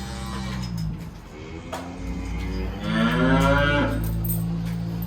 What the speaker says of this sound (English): We got a lot of mooing.